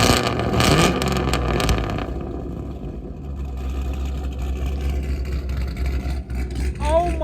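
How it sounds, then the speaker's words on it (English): An LS V8-swapped Volvo 244, about 600 horsepower, fires up and revs, its loud, deep engine roar swelling in bursts before settling into a heavy rumbling idle, with voices talking over it. "Let's get a start up, some revs, and then let's go for a ride."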